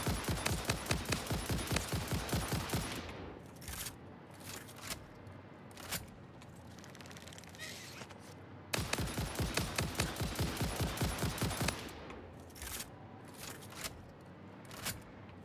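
Rapid bursts of gunfire in the game Satisfactory as a player shoots hostile creatures, two long sustained volleys of closely spaced shots with scattered single shots in between, loud and close with no talking.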